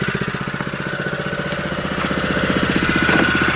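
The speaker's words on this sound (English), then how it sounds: "I'll just bring the revs up a little bit more maybe." A Toyota Hilux engine runs at a steady rhythmic idle, driving a water pump, its regular pulsing beat growing slightly louder and faster as the revs come up.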